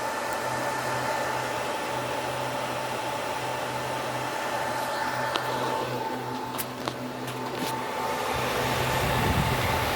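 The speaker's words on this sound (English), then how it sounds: "These fans over here are running out of low." Cooling fans inside a Dell PowerEdge 2650 rack-mount server whir in a steady broadband rush with a faint tonal hum, holding roughly level throughout and swelling slightly near the end.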